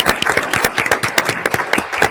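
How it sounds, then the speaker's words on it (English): Audience at a panel on copyright policy and the future of television breaks into applause, dense overlapping claps from a sizable room, close and lively throughout the short stretch. "Let's give them a round of applause."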